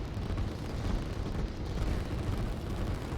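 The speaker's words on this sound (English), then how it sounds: "now being hit by 2 rockets" Rocket strikes landing on a unit in the strategy game Line War, a continuous rumbling roar of overlapping explosions, dense and steady for a few seconds with no clear gaps.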